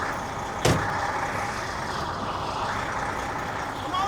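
A Freightliner truck engine runs steadily close by, a continuous broadband rumble with a sharp hiss-like burst near the start.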